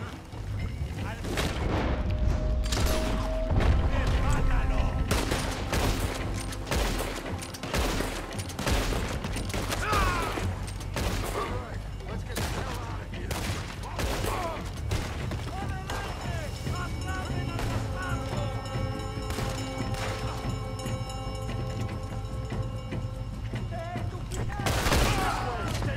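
Repeated gunshots and rifle fire in a Red Dead Redemption II shootout, loud bursts spread across the stretch with booms, under intermittent speaking voices and background game sound.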